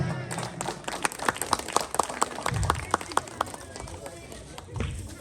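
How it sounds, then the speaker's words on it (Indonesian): An audience claps for performers at a night-time community arts show for mothers, the applause rising in a loud patter of many hands while an announcer's voice carries over it. "Sekali lagi tepuk tangan untuk kita semuanya."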